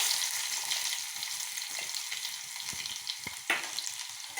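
Shallots frying in hot oil just after mustard seeds have popped, for a mango curry: a steady bright sizzle with a few sharp crackles and pops, close and alone.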